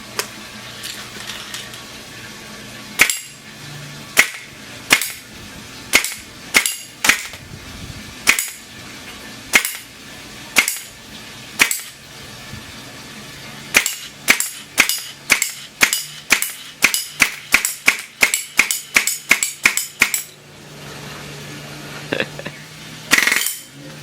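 An Umarex Steel Storm BB gun fires single shots, a series of sharp, loud cracks spaced a second or so apart that quicken into a fast run of closely spaced pops before a final pair.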